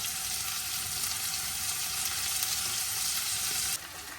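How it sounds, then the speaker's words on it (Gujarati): Okra fries in a pan with a steady, bright sizzle and crackle that holds evenly before abruptly softening near the end. "તો શાક વઘારી દીધું"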